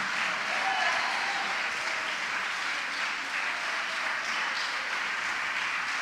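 Sustained audience applause fills a church during a sermon, a dense steady wash of many hands clapping at even loudness throughout, with no voices standing out.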